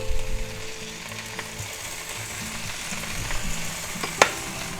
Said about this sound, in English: while our eggs are cooking, we're going to brown our nice smoked ham on each side